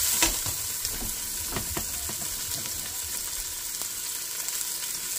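Onion sizzles as it sautés in a pan for salmon head sinigang, a steady bright frying hiss with occasional stirring scrapes and soft clinks near the start. It is close and continuous, and no voice is heard.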